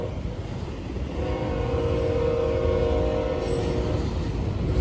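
A Norfolk Southern freight train of loaded auto racks passes southbound in Gaffney, South Carolina, a loud continuous rumble of wheels and cars with a steady roar and faint squeal throughout.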